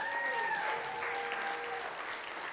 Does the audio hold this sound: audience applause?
yes